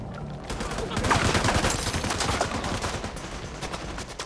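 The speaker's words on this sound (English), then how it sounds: "All right, I hear gunfire." Rapid bursts of video game gunfire in The Division 2 crackle continuously for several seconds, loud and dense, with a synthetic edge.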